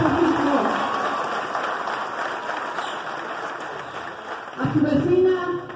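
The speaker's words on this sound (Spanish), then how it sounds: "un fuerte aplauso para Francisco." Crowd applause at a political rally, a broad steady clapping heard under a voice on a loudspeaker, which rises again near the end.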